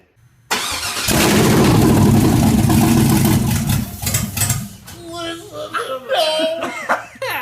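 A 500 HP LS 6.0 engine swapped into a Jeep cranks and fires into a loud, rough roar, holds a steady heavy run, then settles lower as excited voices speak over it.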